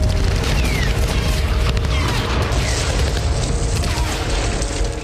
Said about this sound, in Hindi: डोनेस्क में रूसी एयरफोर्स ने कई फ्रंट पर यूक्रेनी ठिकानों पर हवाई हमले किए